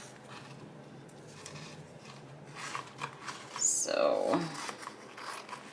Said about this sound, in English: Now I'm going to take my napkin and I am going to cut it out